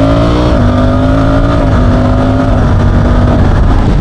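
Suzuki V-Strom 800RE motorcycle engine accelerating, a loud, close droning roar whose pitch climbs, drops briefly at a gear change and climbs again.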